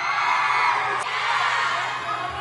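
Audience at the back of a school stage show at SMK Pasundan 1 Bandung cheering and shouting together, a steady loud crowd roar throughout.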